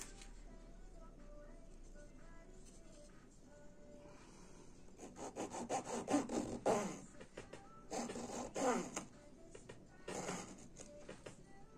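Wood strip for a model ship being cut by hand, probably with a saw or blade: a few bursts of rasping, scraping strokes with pauses between, close and moderately loud over quiet room noise.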